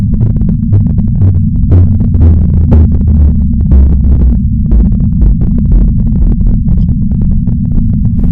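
A slowed-down data packet burst: a deep, heavy rumble drones steadily and loudly the whole way through, with a rough, crackling texture flickering on top.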